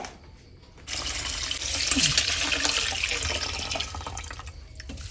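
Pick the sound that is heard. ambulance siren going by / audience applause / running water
running water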